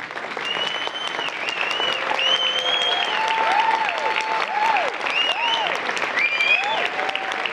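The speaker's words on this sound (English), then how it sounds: "if you could stand and just be acknowledged by everyone in this room and receive our applause" Sustained applause fills a room at a film premiere as the audience honours a rowing team, a dense, loud wash of clapping with excited voices rising over it.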